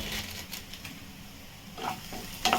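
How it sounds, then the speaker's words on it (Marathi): Field beans dropped into hot tempering oil with onion, curry leaves and cumin, giving a soft sizzle and stirring scrape that sharpens into a louder crackle near the end. "हे भाजी फोडणीला घालते"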